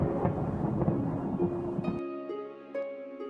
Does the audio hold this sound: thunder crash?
yes